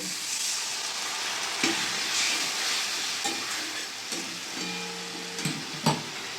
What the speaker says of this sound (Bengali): ভালো করে পেঁয়াজের সাথে মশলাটা আমি কষিয়ে নেব